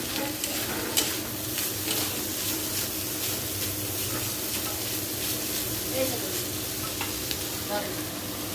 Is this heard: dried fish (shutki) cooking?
yes